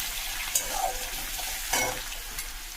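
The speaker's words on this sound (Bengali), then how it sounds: "জিরে ফোড়ন দিলাম, তেজপাতা ফোড়ন দিলাম, লঙ্কা ফোড়ন দিলাম, খানিকটা রসুন দিয়ে দিলাম কোড়ানো" Cumin, bay leaf, dried chili and crushed garlic hit hot oil and sizzle in a steady, close hiss, broken by a couple of sharper pops and a brief stirring scrape, with no voices.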